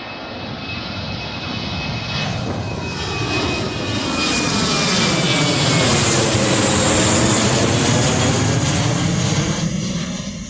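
A Boeing 737 takes off at an airport, its jet engines building into a loud, sustained roar that swells over about ten seconds and stays heavy and close, with no voices.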